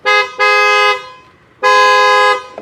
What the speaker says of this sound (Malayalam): അപ്പോൾ നമ്മുടെ ഹോണിൻ്റെ വർക്കിംഗ് കാണിച്ചു തരാം